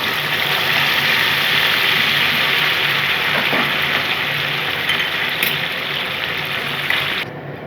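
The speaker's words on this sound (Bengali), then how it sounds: "আমি এখন জল ঢেলে দিচ্ছি।" Hot water poured into a frying pan of fried mustard-poppy paste while making Bengali doi ilish, giving a loud, steady rushing hiss that runs unbroken for about seven seconds and then drops off abruptly.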